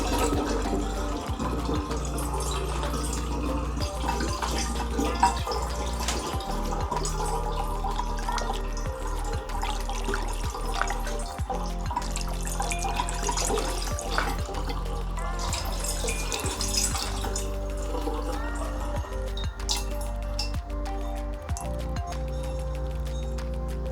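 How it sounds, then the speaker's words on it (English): Sugary water pours through a funnel into a glass demijohn for homemade red wine from grape juice, a steady trickling and gurgling of liquid with intermittent drips, close by and continuous with no talk. "So let's pour our sugary water into the Demijohn."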